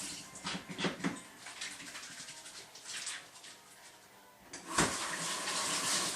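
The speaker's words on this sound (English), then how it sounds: "Give my hands a quick wash." Hands being washed under a running tap in a kitchen, a steady broadband splashing rush with small shifts as the hands move, briefly quieting before the water surges loud again near the end.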